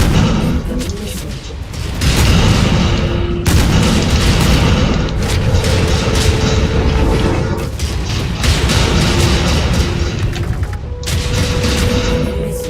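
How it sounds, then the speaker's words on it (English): Repeated heavy booms of incoming missiles striking in MechWarrior 5, loud rolling blasts arriving in bursts every couple of seconds over a constant mechanical rumble. "Incoming missile."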